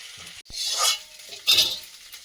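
A wok of hot oil on the stove, with two bursts of frying and stirring: a clink of utensil, a loud sizzling rush, then a second sizzle a moment later, close and with no voices.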